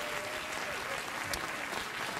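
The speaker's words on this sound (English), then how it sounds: "Now give me applause." Studio audience applause on a late-night talk show, steady clapping that fills the whole short stretch at a moderate level, with a faint voice underneath.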